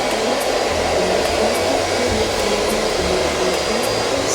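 An ILIFE V58 robot vacuum cleaning a floor, a steady, loud motor whir with an even airy hum throughout, close and uninterrupted, with no talking.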